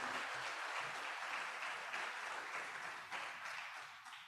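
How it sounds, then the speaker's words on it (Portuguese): An audience claps at an academic conference honoring a university, a dense, even patter of many hands heard from a moderate distance that eases off slightly near the end. "Les pido un aplauso, por favor"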